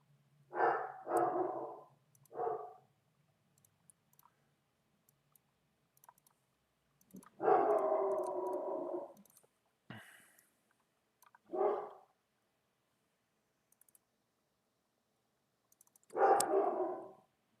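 A pet dog barks in short, loud bursts near an indoor online poker setup, several separated volleys with quiet gaps between them and no talking over it.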